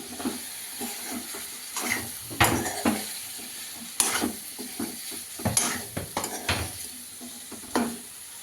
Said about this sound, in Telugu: దీన్ని అయితే ఇప్పుడు బాగా ఫ్రై చేసుకోవాలి